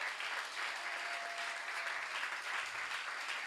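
Inside a church, a congregation applauds a newly married couple with steady, continuous clapping from many hands, moderately distant and even in level throughout the short stretch.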